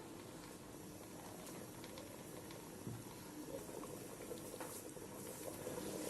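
Beef nihari made with beef shank simmers in a pot, giving a continuous dense bubbling and burbling that stays even and close throughout, with a slight swell toward the end.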